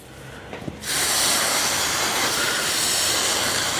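Steam bursts onto plywood veneer during an Eames LCW chair repair, a sudden loud, steady close hiss that starts after a brief quiet moment and keeps going.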